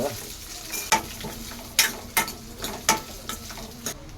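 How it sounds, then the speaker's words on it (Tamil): Onions spluttering and popping in hot oil in a frying pan, with a steady sizzle broken by several sharp crackling bursts at irregular intervals, close by and with no voices. "வெங்காயம் தெரிக்குதுங்க. அடாடாடாடாடா, தெரிக்குது."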